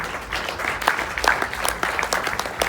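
Audience applause at the JACAP music awards ceremony, a steady wash of clapping hands throughout, fairly loud and close, with no speech over it.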